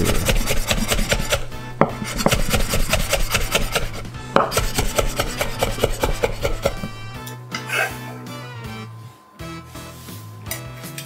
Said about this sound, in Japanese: ヘタを切り落としくるくる丸めて細切りにしていく。